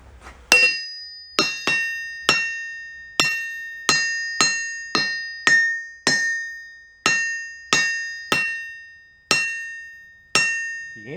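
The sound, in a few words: hammer striking an old barn find anvil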